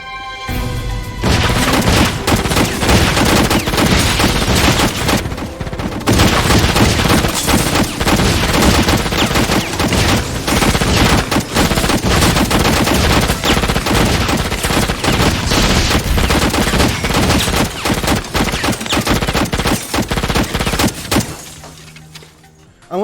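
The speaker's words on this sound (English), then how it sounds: "the CIA busts into the motel room and shoots what is obviously an empty room" Sustained, loud gunfire fills a 90s action film scene as agents shoot up an empty motel room, with dense bursts, booms and shattering for about twenty seconds before it cuts off.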